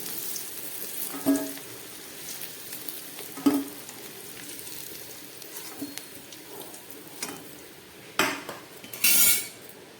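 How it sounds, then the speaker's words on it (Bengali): Fried potatoes are lifted out of hot oil in a pan, with intermittent metal utensil clinks and scrapes against the pan over a low background sizzle, one louder clatter near the end. "আলুগুলো লাল করে ভেজে নিলাম এবার তুলে নিচ্ছি"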